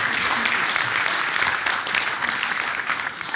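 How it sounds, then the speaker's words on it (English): An audience claps and applauds steadily as a speaker is welcomed to the stage at a church men's event, a dense, even wash of clapping that fills the room throughout. "let's bring up Daddy D and give him a big round of applause."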